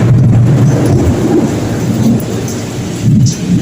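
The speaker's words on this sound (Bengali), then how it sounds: "কি জোর বিদ্যুৎ চমকাচ্ছে।" A loud thunderstorm at night, with deep rolling thunder rumbling over steady heavy rain, close and dominant throughout, rising again toward the end, with no voices.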